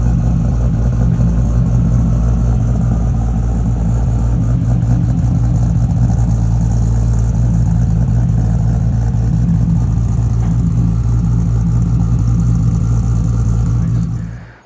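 A high-compression Toyota Supra fitted with a PHR titanium exhaust idles up close with a loud, steady, deep rumble. The drone holds evenly throughout, then cuts off abruptly at the end.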